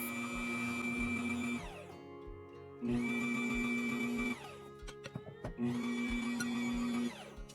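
A Bear dough mixer kneads a soft dough, its motor humming steadily in three long runs separated by brief pauses with clicks and knocks, loud and close.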